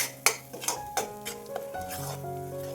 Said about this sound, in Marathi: आता हे वाटण तेलामध्ये छान परतवून घ्यायचं आहे